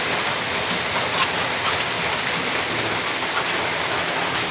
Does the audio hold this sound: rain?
yes